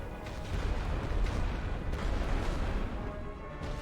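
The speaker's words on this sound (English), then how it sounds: "I'm gonna have to send some artillery support on this side to make sure I hold this trench." Artillery fire in the WWI trench-warfare game The Great War: Western Front, a dense, continuous rumble of distant barrages and booms with no clear single shots, steady and loud throughout.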